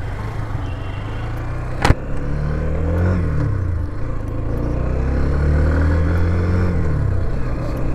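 A new Hero Xtreme 125 motorcycle still in its break-in period is ridden on the road; a steady engine drone rises and falls in pitch under wind rush, with one sharp click early on.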